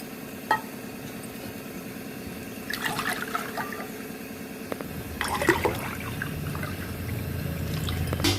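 Water is poured from a bowl into a cooking vessel, two bowlfuls in turn, making bursts of splashing and trickling against a steady background hum, close and without talk.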